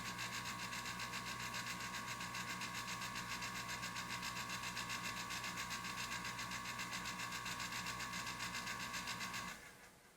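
A Breckwell pellet stove runs with its auger and room fan going together, a steady, even mechanical drone with a faint regular pulsing that holds for about nine seconds and then drops away abruptly near the end.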